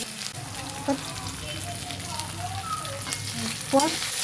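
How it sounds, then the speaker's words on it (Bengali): Ginger fries in oil in a pan, giving a constant crackling sizzle with a couple of sharp utensil clinks near the start and end. "আদাটা ভাজা ভাজা হয়ে গেছে"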